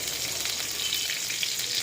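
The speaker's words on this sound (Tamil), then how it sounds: "எண்ணெய் ஊற்றியாச்சு. அவர் கூட கொஞ்சோண்டு ஜீரகத்தை போட்டேன்." Cumin seeds sizzle in hot oil in a pan for spinach sambar, a steady close frying hiss with no talk.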